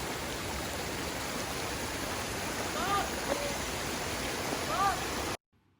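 A mountain waterfall at Malam Jaba in Swat roars as a steady, dense wash of falling water, close and constant, with faint bird chirps over it before it cuts off abruptly.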